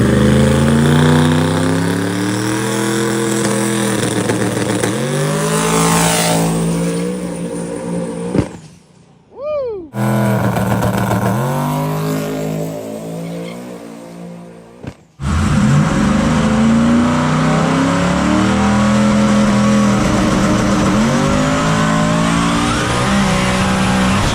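The V8 engine of a no-prep 4x4 NASCAR truck roars loud and close through a drag run, sustained high revving that rises, cuts out briefly around a gear change and a lift, then returns at full throttle.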